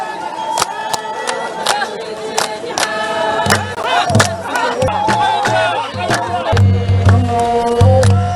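A crowd cheering and shouting at a political rally welcoming a head of state, loud and continuous with camera shutter clicks and rhythmic chanting throughout.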